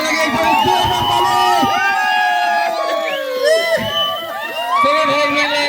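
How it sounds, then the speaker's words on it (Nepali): A crowd claps and cheers for a contestant at a New Year Deusi Bhailo celebration, loud continuous shouting and whooping with voices calling out over the noise. "हामीहरू सबैजना उनीहरूको लागि एकदमै जोरदार ताली"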